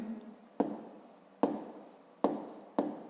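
Pen strokes on paper as a maths problem is worked out by hand, four sharp scratching onsets each trailing into a softer writing sound, close and fairly quiet with no talk.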